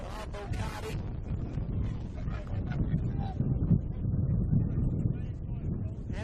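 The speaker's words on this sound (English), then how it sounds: "Absolutely windy conditions, as you can hear coming through." Strong wind buffeting the microphone at an outdoor men's football match, a gusty low rumble running under a commentator's voice for several seconds.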